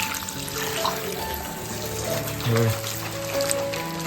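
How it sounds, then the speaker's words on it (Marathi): Fresh leafy vegetables from the yard are rinsed under a running tap, a continuous splash and trickle of water close by with brief louder gushes, while a voice talks over it. "आपण ना ह्याला धुवून घेतो व्यवस्थित नाडाखाली"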